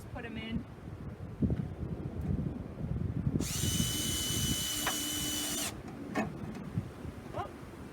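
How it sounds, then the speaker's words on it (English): A power drill whirs for about two seconds as it drives a self-tapping screw into a rain gutter during a rain barrel installation. A short spin-up comes before the main run, with faint background noise around it and no talk in the clip. "These screws are self-tapping screws, so you don't have to drill a hole first"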